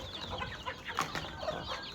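Chickens cluck steadily over two seconds in a busy farmyard, with several short overlapping calls and a couple of sharper squawks at close range, no talk present.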